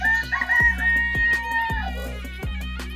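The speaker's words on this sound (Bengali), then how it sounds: "এগুলো তিতির মুরগি আর উপর এটাও তিতির" Guinea fowl and chickens call together in a park poultry enclosure at Lalpur, Natore: a rooster's crow and repeated sharp, rhythmic clucks and cackles sound close and loud, with no talk.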